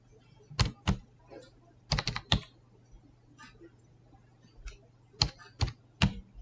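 Typing on a computer keyboard while filling in a Microsoft Access database: scattered sharp key clicks, singly and in quick clusters with pauses between, close up over a faint steady hum.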